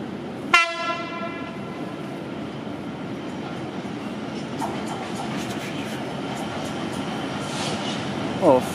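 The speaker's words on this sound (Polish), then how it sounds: "Towarówka to jedzie na Kutno." A freight train rolls through Łowicz station in the evening, a steady, loud rumble of wagons throughout, opened by a brief sharp horn-like blast near the start and a faint squeal near the end.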